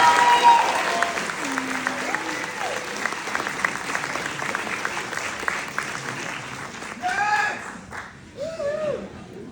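A graduation audience claps steadily to welcome a business school valedictorian, a broad wash of applause that thins out near the end as voices and cheers break through.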